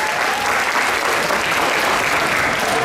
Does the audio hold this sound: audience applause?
yes